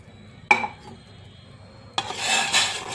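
A spoon clinks once against a pot of ragi flour mixed in water, then after a pause settles into continuous scraping and stirring close by, with no talking.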